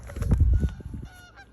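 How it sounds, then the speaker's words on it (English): Several loud goose honks in quick succession, nasal and close, with a fainter call trailing off at the end. "Hear the geese?"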